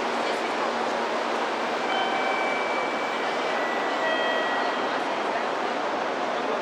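Loud, steady roar of a Shinkansen bullet train arriving at a Japanese station, with a broad rushing rumble and faint whining tones running through it.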